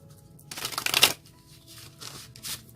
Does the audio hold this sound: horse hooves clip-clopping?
no